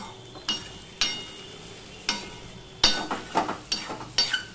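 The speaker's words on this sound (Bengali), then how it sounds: "সর্ষের তেলটা দিয়ে এই তেলের সাথে একটু মাখিয়ে নিলাম" A vegetable curry is stirred with mustard oil in a kadai over a low gas flame, with spatula strokes scraping the pan at a steady, unhurried pace that quickens toward the end over a faint sizzle.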